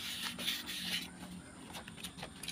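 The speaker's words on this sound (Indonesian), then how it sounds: "Ini kita gunakan amplas nomor 1000." Rust being rubbed off a motorcycle camshaft with 1000-grit sandpaper, a soft, steady rasping scrub in short repeated strokes, close and fairly quiet, with no talking.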